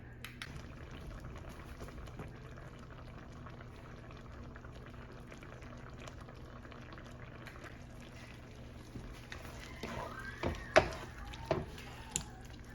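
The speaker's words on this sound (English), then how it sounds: "now you're just gonna let it simmer until the sauce or the cream starts to thicken up" Shrimp in a cream sauce simmers in a pan, a soft steady bubbling with faint hiss that builds to a few louder pops and gurgles near the end.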